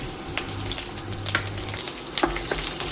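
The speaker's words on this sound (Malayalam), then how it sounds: "ഇതിലേക്ക് ആദ്യമായി വെളുത്തുള്ളി ചേർക്കാം." Garlic frying in about three tablespoons of coconut oil, a steady close sizzle with crackling pops throughout and a few louder spatters, no talking.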